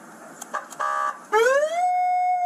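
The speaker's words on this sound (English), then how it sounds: "as long as you have a siren on there and it produces a sound" A vehicle siren starts with a few short electronic chirps and then a rising wail that settles into a loud, steady tone, close and continuous.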